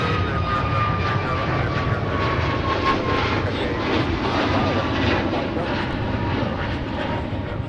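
A jet airliner taxis on the ground at Minneapolis–St. Paul airport on a windy day, its engine a loud, steady broadband roar with a faint rising whine, continuous and close throughout.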